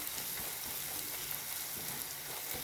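Onions, shallots and green chillies sautéing in a pan, a steady, soft crackling sizzle with faint popping throughout, no voices.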